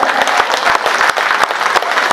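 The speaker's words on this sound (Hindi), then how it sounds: "और जोरदार तालियां बजती रहनी चाहिए" An audience at a BJP election rally for the 2022 Delhi MCD ward election claps loudly and continuously, dense, close applause filling the whole stretch.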